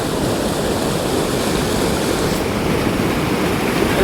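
A steady, loud rush of water overflowing from Chavand village lake roars continuously, broad and unbroken like a swollen river in flood.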